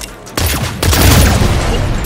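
Flaming shots in the video game Saints Row, a loud close burst of blasts that rises into a dense, sustained roar of gunfire.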